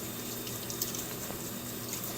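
Running tap water filling a sink or tub for bathing a ferret, a steady close splashing flow with no talk.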